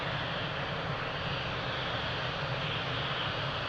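An airplane roars on takeoff from runway 02 at Lisbon Airport, a dense, steady engine rush that stays loud and even throughout with no voices.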